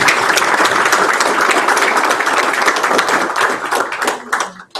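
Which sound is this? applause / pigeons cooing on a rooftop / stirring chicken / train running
applause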